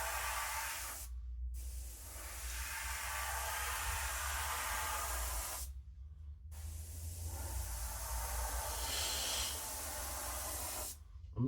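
A steady, soft hiss of an airbrush spraying paint onto a Fokker Dr.I model wing, running in long stretches broken by two or three brief pauses, close and even.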